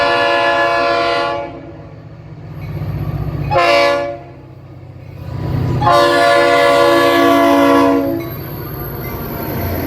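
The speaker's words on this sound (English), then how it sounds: "Listen to this awesome Leslie horn." A Leslie air horn on New Jersey Transit GP40PH-2B locomotive 4208, leading a rush-hour train, sounds in three loud blasts: a long one, a short one, then another long one, with the engine rumbling underneath.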